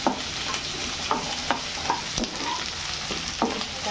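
Onions sizzling in a hot pan for paneer chilli while a spoon stirs them, giving a steady hiss broken by repeated scraping strokes, close and fairly loud, with no voices.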